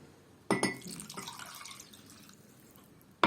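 A cup of water is poured for a garlic sauce in a kitchen, with a sudden splash into the glass followed by a fading trickle and a light clink at the end.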